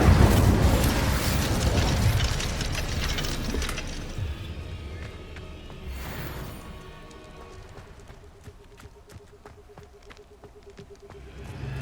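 The Incendio fire spell cast in the Hogwarts Legacy video game: a loud roaring, crackling burst of flame that slowly fades, followed by quieter clicks and a short repeating tone.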